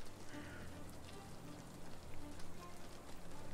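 Steady rain pours down in the video game Sherlock Holmes The Awakened, a faint, even hiss of drops with no voices over it.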